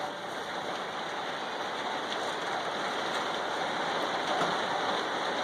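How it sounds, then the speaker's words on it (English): A heavy rainstorm, dense steady wash of rain falling on surfaces, continuous and fairly even for a few seconds with no voices. "there's this massive rainstorm just flew in from nowhere."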